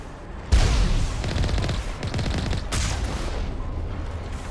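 Gunfire in Mass Effect: Legendary Edition erupts suddenly into a loud, sustained volley of rapid shots, with a second sharp burst shortly after amid dense combat noise.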